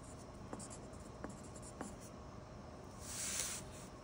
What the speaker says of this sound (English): And we're gonna do our best to write this out.